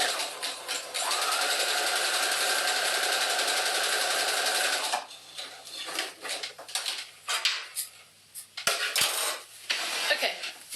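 A sewing machine with an edge stitch foot runs continuously for about four seconds while stitching a ruffle a few millimeters from the fabric edge, then stops, followed by handling clicks and rustles.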